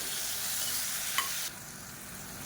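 Tomatoes cooking with salt in a pan for spicy chutney, a faint steady sizzle with a brief stir click midway before the frying quiets down.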